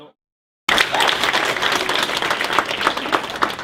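After a moment of silence, warm, sustained applause from a dinner crowd at the Edna Lewis Foundation's annual dinner breaks out for the culinary crew, many hands clapping loudly and continuously.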